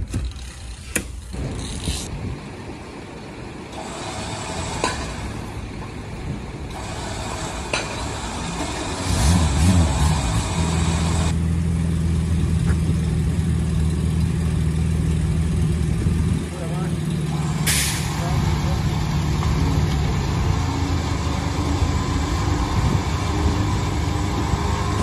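An udon food truck's engine idles at an outdoor market, then settles into a steadier, louder hum as it pulls away, with people talking over it throughout.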